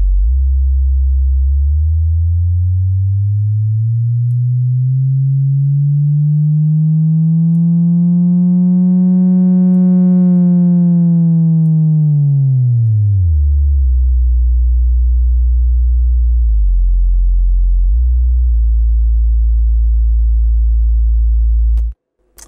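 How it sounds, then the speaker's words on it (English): A simple sine wave oscillator circuit, its pure electronic tone sliding smoothly up in pitch, then falling back down as the control voltage changes, steady and loud throughout before cutting off abruptly at the end. "That's how you make yourself a nice, simple sine wave oscillator."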